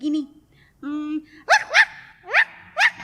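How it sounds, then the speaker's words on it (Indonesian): A dog named Gugi barks several times in the morning, a couple of softer whining yelps followed by four sharp, close, rising barks spaced in a loose rhythm. "mereka tidak suka kalau Gugi menggonggong setiap pagi"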